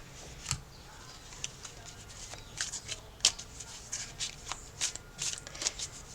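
A deck of cards is shuffled close up, with soft repeated riffling bursts and flutters at an irregular rhythm over a quiet background.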